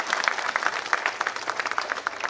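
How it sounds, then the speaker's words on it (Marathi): Audience at a political rally clapping, a brisk patter of many hands close by that fills the whole moment without talk. "त्यांच्यासाठी टाळ्या वाजवा."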